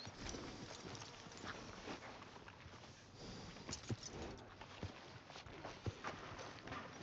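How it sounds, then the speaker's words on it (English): A horse's hooves clip-clop at a walking pace in the Red Dead Redemption 2 video game, fairly quiet and steady amid soft ambient game noise with no speech. "Are you gonna mount that new horse of yours or not?"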